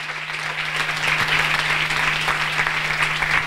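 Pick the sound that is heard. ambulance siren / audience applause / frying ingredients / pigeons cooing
audience applause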